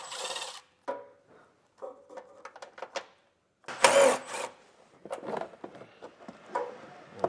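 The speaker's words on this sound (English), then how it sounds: "Now we're going to take a 10 millimeter socket and remove the 2 flange nuts" A 10 mm socket wrench working flange nuts off a plastic vehicle panel during a trailer hitch install: scattered short metallic clicks and ratcheting bursts with quiet gaps, plus one louder clatter midway.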